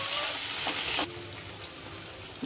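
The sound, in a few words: ginger garlic paste frying in pan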